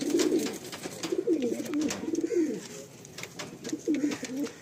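Madrasi tournament pigeons coo inside a loft, several birds producing repeated rolling, throaty coos in overlapping bursts, close and fairly loud, with no one talking.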